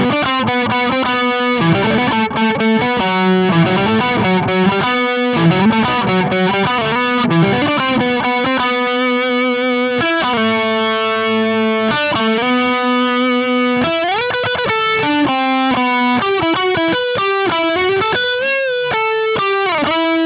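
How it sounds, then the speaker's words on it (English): An electric guitar through a metal distortion pedal plays a sustained heavy solo line, bending and sliding between notes, loud and saturated from start to finish. "For some heavy solos, I like to use this metal board distortion"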